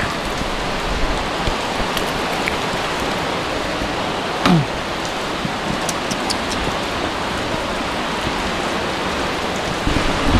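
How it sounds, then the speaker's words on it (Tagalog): Heavy typhoon rain pours steadily and close by, a dense unbroken wash of drops hitting surfaces, with a brief knock partway through. "magpabasa tayo sa ulan"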